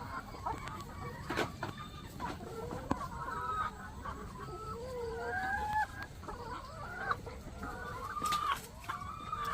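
Backyard laying hens cluck and chatter while fed ripe papaya, with several birds calling in overlapping bursts, plus some sharp knocks and rustles nearby at fairly low volume.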